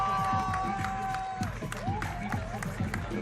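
Crowd applause and cheering for the three winners of the women's parkour freestyle final at FISE Montpellier, a broad steady roar with clapping and whoops, mixed with an announcer's voice over the PA.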